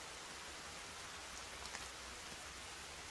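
Steady rainfall from the rain weather effect in the video game Sons of the Forest, a continuous soft hiss of drops on surfaces at low level, with no voices.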